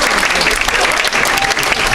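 A theatre audience at a Rotary club show in Brive claps loudly, a dense, steady burst of applause filling the whole moment without a break.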